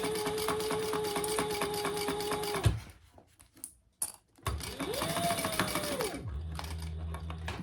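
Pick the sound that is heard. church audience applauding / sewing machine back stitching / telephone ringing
sewing machine back stitching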